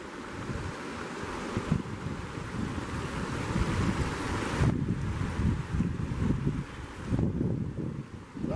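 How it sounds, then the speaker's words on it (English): Along the Cispus River, a light breeze rushes steadily past the microphone over the constant wash of moving water, with a few gusts that rise and fall and no voices. "This light breeze blowing up the river has been kind of nice."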